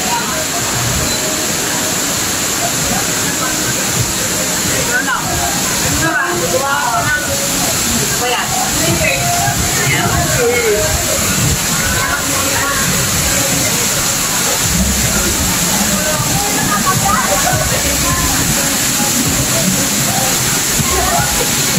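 Twin Falls waterfall in Kalayaan, Laguna, a steady broadband rush of falling water with sloshing texture, continuous throughout, with faint voices talking in the background.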